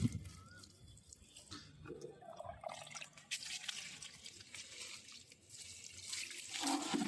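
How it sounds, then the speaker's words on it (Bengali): Water splashes and trickles onto a freshly laid brick wall to cure it, a steady wet spattering that runs throughout at moderate distance and grows a little stronger toward the end, with no talking. "ওই জন্য হালকা হালকা করে জল দিলেই হয়ে যাবে।"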